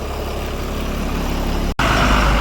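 A truck engine idles steadily before reversing, a loud continuous low rumble close by with a brief cut near the end, no talk.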